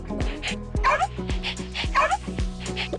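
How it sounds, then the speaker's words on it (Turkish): A dog in a video game gives a series of short yips and barks with whimpering tones, roughly one every second, under game sound effects and light background noise. "O gerçek köpek."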